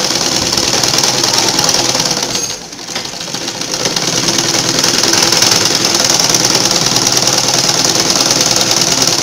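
Sewing machine running in a steady, dense mechanical whir while stitching the folded elastic waistband of track pants, briefly easing off mid-run before resuming at full speed.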